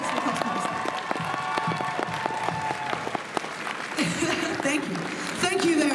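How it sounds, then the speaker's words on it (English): An audience at a cosplay contest applauds and cheers the cosplayers, with dense clapping, scattered whoops and voices mixed in, swelling louder toward the end. "Massive round of applause for the cosplayers."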